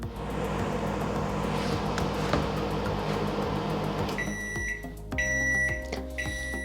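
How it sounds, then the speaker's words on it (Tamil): A microwave oven runs with a steady mechanical hum and rattle, then its tonal beeps sound as the cycle stops and the door is handled. "இப்போ இதை நான் மைக்ரோவேவில் முதல்ல 1 மினிட் வச்சு எடுத்துகிட்டு லைட்டாக கிளறி விட்டுட்டு திரும்ப 1 மினிட் வச்சு எடுக்க போகிறேன்"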